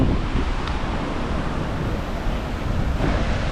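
Sea waves washing onto Bla Wae beach in Tak Bai, a steady broadband roar of surf mixed with wind buffeting the microphone, continuous and fairly close, with no voices.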